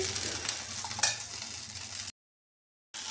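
Green moong dal sprout and oats dosa frying in a little oil on a pan, giving a steady soft sizzle with one brief scrape near the start, then a short silent gap before the sizzle resumes.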